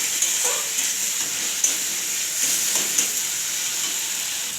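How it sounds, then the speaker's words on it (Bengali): Fennel paste going into a hot pan, sizzling steadily and loudly with faint stirring scrapes throughout. "এবার পানমৌরি বাটাটা দিয়ে দিব"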